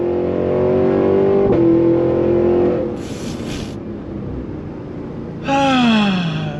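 A 2023 Cadillac Escalade-V performance SUV engine pulls hard at full throttle, a loud, close, rising drone that eases briefly then surges again with a falling shift tone near the end, with no talking.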